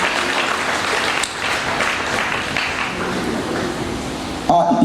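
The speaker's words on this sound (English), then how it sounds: "Please clap your hand if you must do" Congregation at a music summit lecture clapping their hands, a steady wash of applause lasting several seconds before a voice breaks in at the very end.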